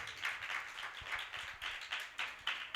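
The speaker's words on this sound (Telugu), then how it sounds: "ఒకసారి చప్పట్లు కొట్టి ప్రభువుని మహింపరచండి." Audience clapping in rhythm at a Christmas church celebration in Maheshwaram, a steady run of moderately loud claps from a crowd with faint background murmur.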